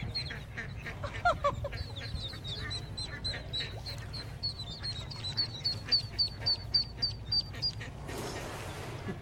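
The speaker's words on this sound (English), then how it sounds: "you got the mama duck jumping off" A mother duck and her ducklings call outdoors: a long run of quick, high peeping notes with occasional quacks, moderately close over a steady low background rumble, followed by a brief burst of noise near the end.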